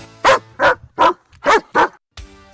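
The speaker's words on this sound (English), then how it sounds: "home of Ruby, the Diamond Dog" A dog barking five times in a jewelry store radio ad, sharp, close barks spaced evenly about a third of a second apart, then a brief tail of background tone.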